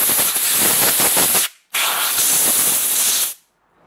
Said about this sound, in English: And I'm going to air blow the part.